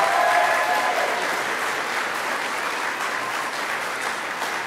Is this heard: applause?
yes